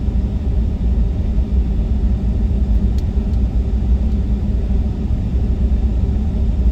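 A car rolls slowly along a road at about 21 mph, giving a steady low cabin rumble of engine and tyres throughout, fairly loud and with no voices.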